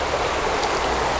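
Steady, close rushing of a small forest creek cutting cleanly through the forest floor, a continuous broadband wash of flowing water with no voices.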